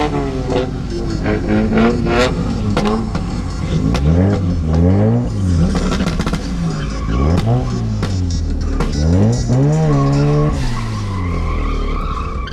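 Cars drifting at the Northern Festival of Speed, loud repeated tire squeals and skids over rising and falling engine revs, with voices audible amid the noise.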